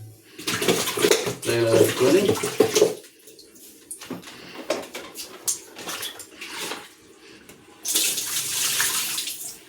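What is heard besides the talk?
water being poured into a water purifier filter housing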